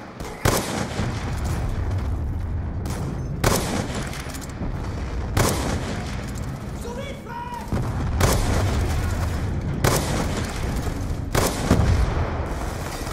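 Heavy booming blasts from grenade explosions in Call of Duty Black Ops 2, about half a dozen loud, sharp detonations spaced a couple of seconds apart over a continuous rumble of gunfire.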